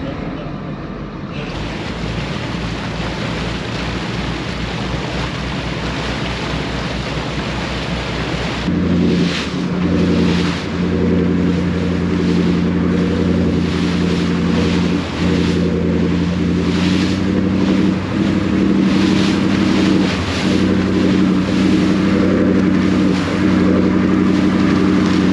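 A boat's starboard engine with a fault runs through a sea trial on open water, a steady low engine drone under wind and water noise that grows louder and fuller partway through.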